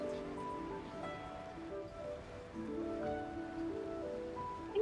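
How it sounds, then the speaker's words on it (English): Sea waves wash softly and steadily at a port in the Genshin Impact video game, blended under tonal game music that stays in the foreground. "The sound of the waves in this familiar port."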